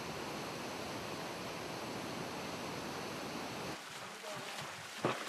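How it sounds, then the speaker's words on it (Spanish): Flowing water as a steady broadband rushing that stops abruptly near the end, leaving a few faint knocks and a brief tap. "El agua que fluye posee energía cinética."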